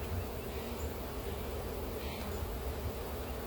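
Honeybees swarm around an open hive, giving a faint but dense, steady buzzing hum that fills the whole moment without pause or speech.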